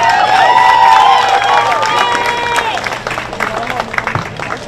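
Audience applause and cheering from a crowd at a junior livestock show, loud and sustained, with a voice over a tonal background at the start and the clapping thinning toward the end.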